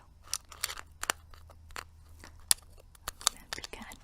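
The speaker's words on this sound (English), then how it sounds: "I'll be kind of chewing on them and stuff as I talk." Someone chews Zelda mints from a small metal tin up close, giving quiet, irregular crunches and crackly bites with soft mouth sounds in between, faint and intimate.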